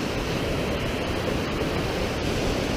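Steady, broadband rushing of creek water at a hiking trail crossing on the way to Blue Lake, loud and close with no pause, and no voices heard over it.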